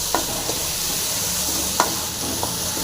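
Green chillies and curry leaves fry in a pan with a constant close sizzle, punctuated by several sharp taps and scrapes of a spoon being stirred.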